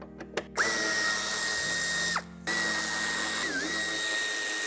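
A power driver fitted with a Torx 30 bit whines steadily as it loosens screws on a 2016 FIAT Tipo SW's tail light and bumper, running in two long close bursts with a brief pause and a pitch dip near the end.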